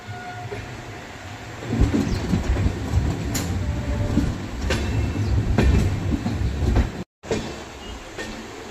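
A passenger express train rumbles into Delhi Junction running late, with loud rolling wheel noise, rhythmic clickety-clack over rail joints and faint squeals, then a brief cut before the rumble resumes.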